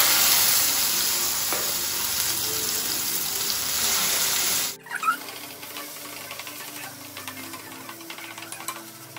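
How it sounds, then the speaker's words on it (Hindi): Red chili chutney hits hot oil in a home kitchen pan, giving a loud, dense, hissing sizzle that cuts off sharply into quieter, lower spitting and bubbling with light stirring clatter. "ऑयल गर्म हो चुका है। अब मैं इसमें डाल रही हूँ हमारा रेड चिली का जो"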